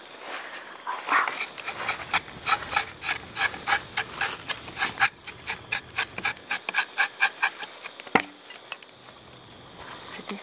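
A knife scrapes rhythmically into rubber tree bark to tap latex, giving a quick series of close rasping strokes with short pauses and a few sharper knocks.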